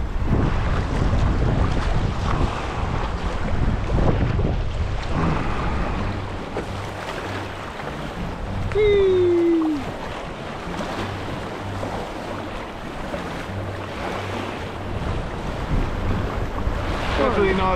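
Paddling through big standing waves on the Yukon River, with loud wind buffeting the microphone, rushing water and choppy splashes throughout, and no voices.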